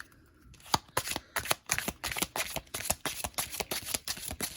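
Tarot cards being shuffled during a reading: a rapid series of crisp riffling flutters and soft slaps, close and fairly loud, repeating in quick bursts for several seconds with no voices.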